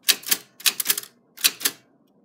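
Keys clack on a manual typewriter in three quick bursts of sharp strikes, close and loud, separated by short pauses with no talking.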